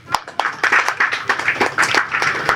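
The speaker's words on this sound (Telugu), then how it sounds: "ఒకసారి అందరు క్లాప్స్ కొట్టాలండి" A crowd claps after a movie teaser at a press meet: loud, close, uneven claps from many hands, with distinct sharp strikes standing out of the patter all the way through.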